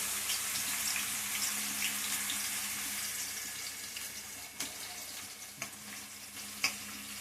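Onions and green chillies fry in hot oil with a steady, dense sizzle that holds for several seconds. A few faint clicks of a utensil land near the end, and there is no talk.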